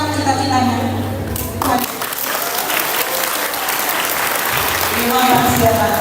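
Enthusiastic applause from a fan meeting audience in Bali, a loud continuous wash of many hands clapping close by, with some voices and crowd noise mixed in.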